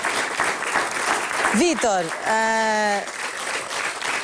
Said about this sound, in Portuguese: Um aplauso para os nossos convidados